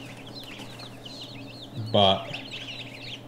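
A brooder full of baby ducklings and goslings peeps constantly, high chirps overlapping nearby, while someone briefly speaks over them.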